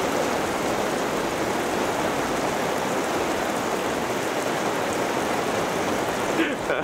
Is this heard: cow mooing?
no